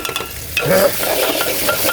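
A spice paste with tomato, turmeric and chilli fries in oil for cabbage bhaji, stirred with a utensil: a close, loud, crackling sizzle that swells as scraping strokes move through the pan, with no talking.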